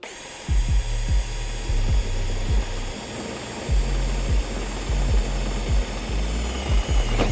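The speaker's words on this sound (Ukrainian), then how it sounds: "Переходимо до сверління, беремо 40-й і починаємо працювати ним." GTM cordless drill, the DS18/40 model, boring a series of holes into wood, each with a loud motor whine and bite of the bit. The bursts are short and repeated, with brief gaps between them.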